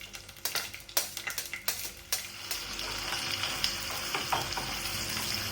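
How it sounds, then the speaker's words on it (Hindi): Onions fry in hot oil in a pot with a steady crackling sizzle, broken early on by a few sharp stirring clacks, then a continuous dense hiss close up. "मैंने इसमें फिर अनियन डाल के अनियन को मैंने मतलब फ्राई करने रख लिया था"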